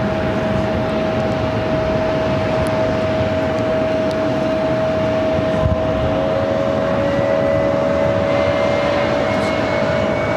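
A Southwest Airlines Boeing 737-800 arriving from Denver at Phoenix Sky Harbor Airport, heard from the north side as a loud, steady jet roar with a sustained engine whine throughout; no speech.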